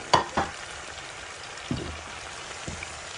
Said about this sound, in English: add my red chili, red onions and mushroom.